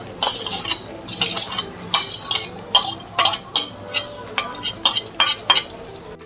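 Fried onion, tomato, cumin and chili being ground into a paste, heard as a string of close, rhythmic scraping strokes with metallic clinks between them.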